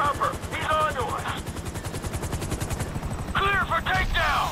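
Helicopter rotor chop in the GTA V video game, a steady rhythmic thumping throughout, mixed with bursts of gunfire and voices talking over it.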